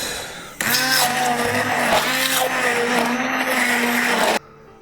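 An electric mixer beats cheesecake batter for a Vienna cheesecake with raspberries, starting with a sudden loud whirring motor whine that holds steady for about four seconds, then cuts off sharply.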